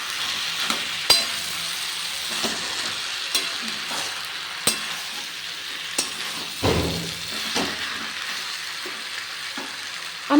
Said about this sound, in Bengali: এটা নেড়ে চেড়ে ভালোভাবে আমি মিশিয়ে নিচ্ছি তরকারিতে